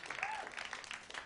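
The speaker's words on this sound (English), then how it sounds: "That was good. Keep clapping." Audience at a stand-up comedy show applauding, a brief burst of steady clapping from a crowd, fairly soft and close.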